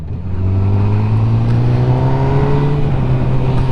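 A 2022 Honda CB1000R Black Edition motorcycle rides along steadily, its loud engine drone holding a continuous note with quick-shifter changes under way, no talking over it.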